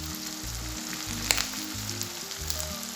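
Red chilli powder, crushed red chilli and other spices sizzle steadily in a hot pan of oil for mash daal, with a soft frying hiss and a few faint clinks, over a low background hum.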